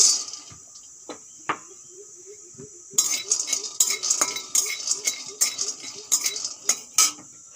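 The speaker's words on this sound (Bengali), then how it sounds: "অল্প কিছু বাদাম খালি কড়াইতে ভেজে নেব" Peanuts dry-roast in an empty wok, first with quiet scattered taps, then a spoon stirring in quick rhythmic scrapes and metallic clinks, close and alone.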